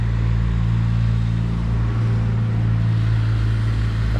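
A Kubota ATV maintenance vehicle drives along a trail nearby, its engine a steady, fairly loud low drone that holds throughout.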